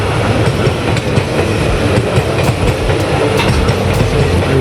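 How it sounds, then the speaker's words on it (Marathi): A long train rolling past at close range, a loud continuous rumble with steady clickety-clack of wheels over rail joints and no voices. "आणि गेलेली आहे पूर्ण ट्रेन"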